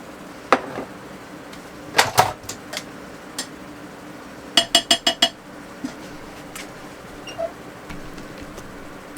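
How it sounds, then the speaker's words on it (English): A spoon stirs salsa into a venison cheese dip in a crock pot, giving scattered light clinks and a quick cluster of rapid taps against the ceramic pot, fairly close with quiet pauses between. "And now I'm just going to stir it up."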